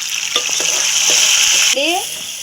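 Prawns dropped into hot oil for prawn pickle, a loud close crackling sizzle with a few sharp clatters as they go in, steady and dense for a couple of seconds, no talking.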